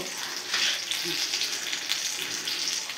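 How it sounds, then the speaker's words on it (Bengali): Potatoes and sliced onions fry in mustard oil in a wok, giving a steady close sizzle and crackle for the whole stretch, with a few faint stirring scrapes and no talk. "এই যে কড়াইতে আমি দিয়ে দেব আলু আর পেঁয়াজ, কেটে রাখা পেঁয়াজ আমি একসঙ্গে ভেজে নেব"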